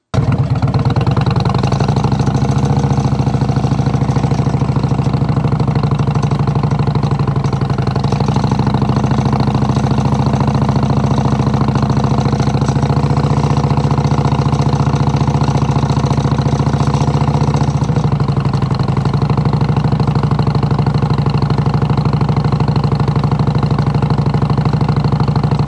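A motorcycle engine holds a steady, constant idle-like drone at low revs for the full stretch while the bike rides slow figure eights and 360-degree turns, loud and close with no talking.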